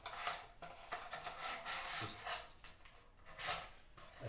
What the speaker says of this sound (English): I'm having to try and sand through the shellac